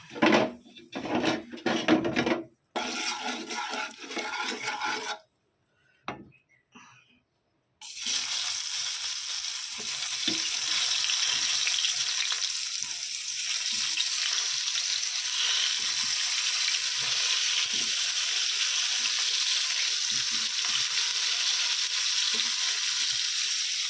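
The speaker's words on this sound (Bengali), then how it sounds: "বেগুনটা ভাজা বসাবো, আর অল্প করে হলুদ দিয়ে দিই।" Eggplant fries in hot oil in a wok with salt and turmeric. After a few seconds of clattering handling and a brief gap, a steady, fairly loud sizzle runs on with no talk over it.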